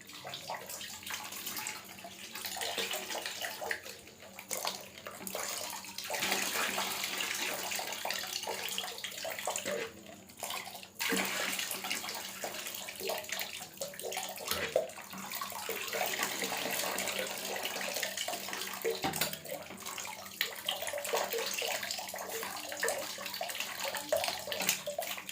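Warm water runs steadily from a tap into a bath, a continuous rushing, splashing stream with faint gurgles, close and even throughout, with no talk heard.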